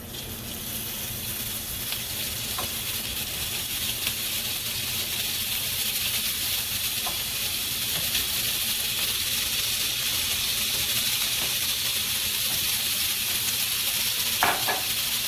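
Sausage browning in a pan with olive oil gives a steady, close sizzle with broadband frying hiss throughout and a few faint clicks, no voices.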